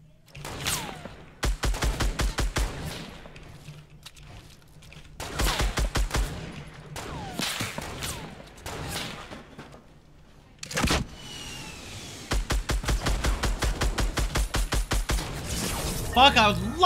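SCAR assault rifle burst fire in Fortnite: several rapid strings of sharp shots, loud and close, separated by quieter stretches, with other game sounds between bursts.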